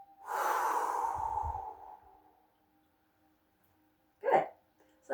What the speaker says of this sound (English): we're going to do that deep cleansing breath. Deep inhale using your body. Open mouth, exhale.